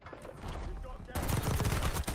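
Rapid bursts of gunfire from a multiplayer shooter game, starting moderately and swelling into loud, dense sustained fire in the second half, with no talk over it.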